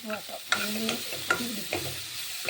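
Vegetables for a soup sauté in a hot pan while being stirred, a steady sizzle broken by several scraping strokes of the spoon against the pan.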